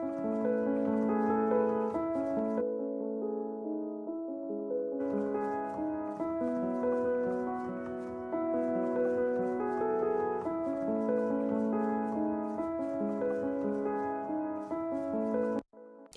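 A piano with a low cut and a low-mid EQ cut around 400 Hz plays a sustained chordal passage, sounding lighter and less thick, with a brief pause partway through before the chords resume.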